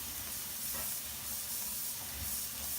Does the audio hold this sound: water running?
yes